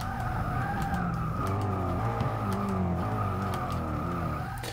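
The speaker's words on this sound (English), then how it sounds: "Let's get the braking marker and brake." A 2015 BMW X6 in Forza 6 brakes hard with ABS off, its engine note stepping down through gears while the tires shriek and skid in long continuous squeals, loud and close, with brief clicks and thuds.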